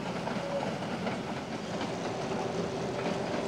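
Continuous rumble of a moving train crossing the restored Iron Bridge over the King River, with rhythmic wheel clatter, steady and fairly close, with no voices.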